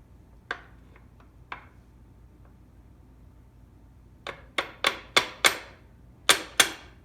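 Sharp metallic hammer blows on a pin punch driving a pin home during a Shopsmith PowerPro upgrade, a few light taps first, then a quick run of seven louder, ringing strikes close by, with no talk.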